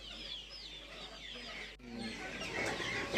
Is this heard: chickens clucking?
yes